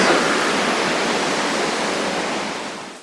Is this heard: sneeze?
no